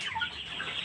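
Backyard chickens raised for meat on a small farm give a brief burst of soft clucking up close, with no voices over it.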